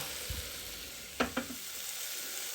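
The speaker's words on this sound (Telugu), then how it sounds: "మంచిగా ఫ్రై చేసుకోండి మంచి మంచిగా ఫ్రై కావాలి" Country chicken fries in a pan with a soft, steady sizzling hiss throughout. Two quick sharp clicks of a utensil land near the middle, and no one speaks.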